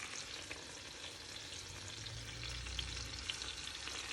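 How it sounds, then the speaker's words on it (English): Chicken pieces fry in melted butter for a chicken casserole, a steady close sizzle and crackle throughout with a slightly louder, fuller bubbling in the second half and no talking. "Grab a piece, put it in the butter"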